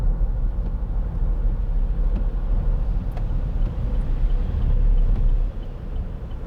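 A 2011 Vauxhall Meriva 1.7 CDTi 16v SE diesel heard from inside while driving, with a steady low road and engine rumble holding throughout and easing slightly near the end, no one talking.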